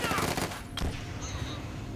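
Infantry rifle fire crackles in a World War II strategy game, a quick string of overlapping shots close together with one sharper crack midway, under a steady busy battle din.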